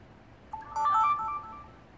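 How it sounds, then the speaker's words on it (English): Windows device-connected notification chime as a Sony Handycam is plugged into a computer: a short, bright two-part electronic tone rising out of quiet room noise, lasting under a second, with nobody talking. "Windows should play the sound that you usually hear whenever a new device is connected"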